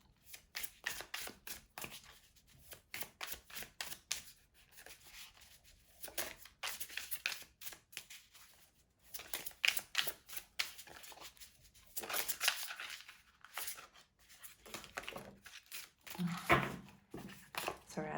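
Tarot cards are shuffled in repeated quick riffles and flicks, crisp close-up snapping bursts separated by short pauses, with faint soft voice in places.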